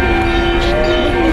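Church bells ringing for the founding-day celebration of Tyumen, a steady sustained metallic tone with a broad noisy wash around it.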